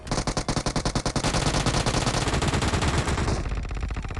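Automatic gunfire in a video game: a rapid burst of sharp, evenly spaced shots that blurs into a loud, continuous roar of fire before easing off at the end.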